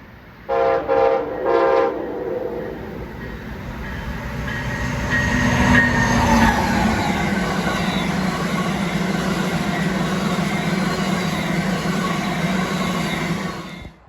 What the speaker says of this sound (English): Amtrak 125 comes southbound with the Charger leading the way